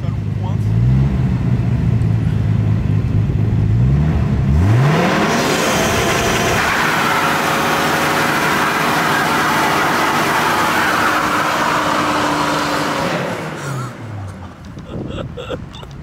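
A car engine revs up hard during a burnout and holds at a loud sustained roar with hissing tire noise, then cuts off, while voices talk.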